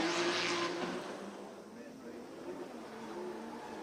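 A Mazda RX-7 FD3S drift car at full throttle during a Formula Drift Japan battle run, its engine note and tire noise loud at first then easing off slightly, heard under a commentator's talk.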